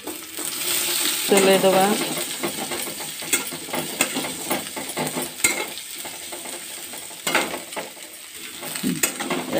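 Chopped onion fries in hot oil in a pan, a steady sizzle with scraping stirs and clinks from a utensil, while a voice speaks briefly close by.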